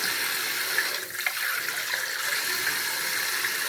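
Steady tap water gushes into a sink while sweet potato leaves are rinsed, a continuous close splashing rush with faint handling sounds underneath.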